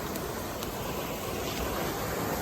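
Rushing river water, a steady, loud broadband roar close by with no voices over it.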